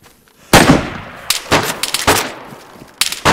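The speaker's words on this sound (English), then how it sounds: "I'm under fire" Gunfire in the video game DayZ: sharp, loud shots crack out at uneven intervals, one early burst followed by several more cracks spaced about half a second to a second apart, with no talk over them.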